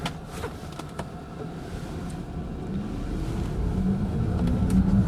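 An electric Fiat 500 conversion accelerates at full power for the first time on a snowy road, a steady rising hum and whine building under road and wind rumble that grows louder as it speeds up.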